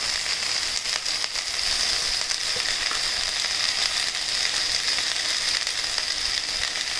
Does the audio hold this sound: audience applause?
no